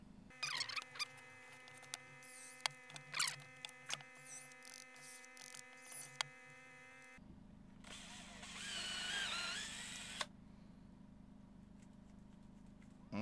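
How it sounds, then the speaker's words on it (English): A power drill whirs steadily for a few seconds, following a stretch of clattering, tapping workshop noises nearby. "I'm just gonna drill this right down the middle"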